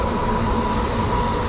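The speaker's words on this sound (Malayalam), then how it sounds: "ഫുള്ള് ഗുഡ്സാണ് പോകുന്നത്." A fully loaded goods train hauling coal rolls steadily past nearby, a continuous loud rumble of wagons with faint wheel clatter and no pauses throughout.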